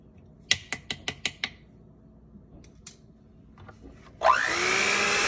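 Electric hand beater whirring loudly through cake batter with egg and vanilla essence in a home kitchen, a steady sustained motor drone starting near the end after a few sharp taps on a bowl.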